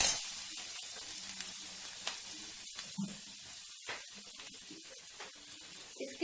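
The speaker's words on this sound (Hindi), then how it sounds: "और मैं इसमें कट करके डाल रही हूँ अनियन छोटे छोटे पीसेस में, और इसको मैं थोड़ा सा फ्राई कर लूंगी।" Chopped onions in small pieces frying in a pan, a soft steady sizzle with light stirring clicks and occasional sharper pops, heard close and alone.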